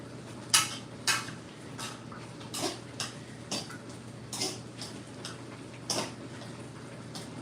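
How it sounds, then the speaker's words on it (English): A spoon clinks against a pot while a mix of meat, pepper and thyme is stirred on the stove, giving a series of light, irregular metallic taps over a low, steady kitchen hum. "Let's give it a stir."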